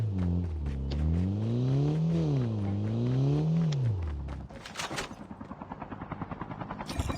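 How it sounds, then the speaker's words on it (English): A car engine in the Call of Duty Mobile battle royale starts with a loud droning hum that rises and falls in pitch as it revs, then drops into rougher, rumbling engine noise mixed with game sounds. "I'm just going to get a car."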